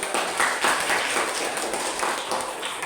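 Classroom applause from a group of students during a biology lesson, a steady broadband patter of many hands clapping together at moderate loudness for about three seconds, with no speech over it.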